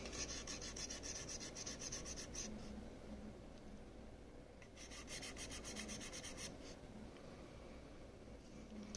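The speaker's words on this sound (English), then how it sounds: "I'm using a fiberglass pen." A fiberglass pen scrubs the contacts of a dirty NES game cartridge, making a steady, close, dry rasping rub with brief rhythmic bursts of scratchy strokes, and no voices.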